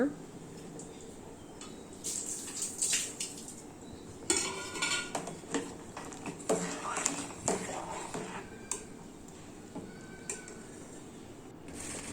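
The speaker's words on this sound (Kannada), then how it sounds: "ಹೀಗೆ ನೀಟಾಗಿ ಮಿಕ್ಸ್ ಮಾಡಿ ಚೆನ್ನಾಗಿ ಬೇಯೋದಕ್ಕೆ ಬಿಡಿ" A spoon stirs drumstick sambar with tomato and greens in a metal pot, giving repeated scraping and clinking strokes with a few louder knocks, close up and mid-level, with occasional voice in the background.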